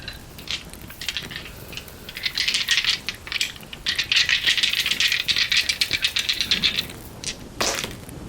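Dice rattle and tumble in a hand or cup, then clatter onto a surface as part of a tarot reading, with bursts of sharp clicking across several seconds and no talk.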